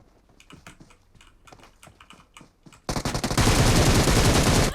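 Computer keys clatter in quick, uneven bursts while playing PUBG Mobile on the Livik map, then dense, loud automatic in-game gunfire erupts and continues in a rapid stream over the keypresses.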